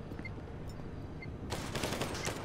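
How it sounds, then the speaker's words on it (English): Enemy gunfire in the game GTA V Online, a clattering of rapid automatic shots that grows louder and denser partway through, with bursts layered over a steady game background. "Shooting at me, bros."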